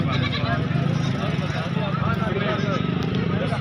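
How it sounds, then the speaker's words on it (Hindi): Goats bleat at a busy goat market, where nanny goats with kids are on sale; the bleats are fairly close and mix with steady talking and general crowd noise. "तो बकरी सामने खड़ी है जनाब"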